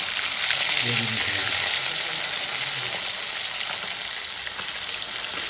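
Pieces of rohu fish frying in a pan, a steady dense sizzle at moderate level that continues evenly throughout with no talk over it.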